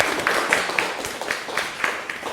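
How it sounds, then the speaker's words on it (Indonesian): A small audience claps together at a university gathering, the claps falling as quick, fairly regular beats that stay moderately loud and fairly near throughout. "Kita beri tepuk tangan untuk Mas Zainal Yusuf."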